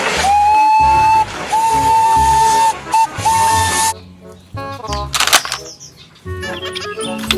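A toy Thomas steam train's whistle sounds in long shrill blasts, then gives way to chugging, clattering toy noises and short bursts, close and loud.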